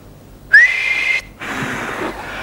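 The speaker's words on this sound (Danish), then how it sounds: "jeg fløjter, når I må begynde" Referee's whistle blown to start a game, one loud, shrill blast rising briefly in pitch and then held, followed by the noise of play.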